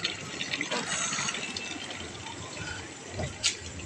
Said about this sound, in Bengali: কলে জোরে জল পড়ছে বলে